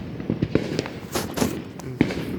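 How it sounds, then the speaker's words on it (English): Consumer fireworks at a Fourth of July backyard show, including artillery shells, cakes and fountains, go off all around with a series of sharp close bangs and crackling bursts, some loud thumps spaced irregularly. "There's fireworks going all around me."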